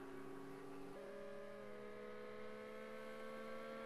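Race car engines from the Project Cars 2 racing game on PS4, including a GT40 chasing a Ferrari in a slipstream, drone steadily at high revs, with one engine note shifting upward partway through, moderately loud and continuous.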